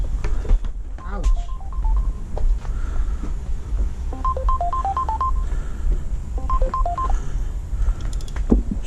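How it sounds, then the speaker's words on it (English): A mobile phone rings while someone works on a Pontiac Sunfire's AC compressor, its short melodic ringtone phrases repeating several times under a background hum, with someone talking briefly nearby. "I got a phone call here."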